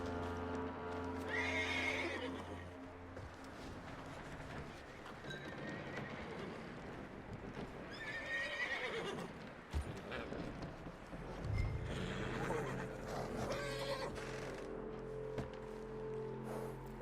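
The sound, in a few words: horse neighing and hooves in a video game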